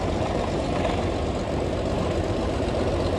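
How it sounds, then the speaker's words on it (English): A Caterpillar D4 diesel track-type tractor, an antique dozer, rolls past at a parade, its heavy engine giving a steady, loud low rumble that carries on without a break, with no talk over it. "The next machine coming into view is a CAT D4 diesel track type tractor"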